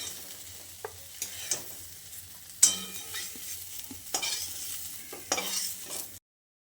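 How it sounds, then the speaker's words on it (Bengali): Soybean chunks fry in oil until reddish, with a soft continuous sizzle under repeated scraping stirs and a few sharper knocks of the spoon against the pan, fairly quiet and close, ending abruptly. "বেশ কিছুক্ষণ সময় ধরে লালচে করে ভেজে নিতে হবে বেশ কয়েকবার নাড়াচাড়া করে সয়াবিনটাকে"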